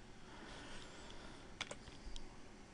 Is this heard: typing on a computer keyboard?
yes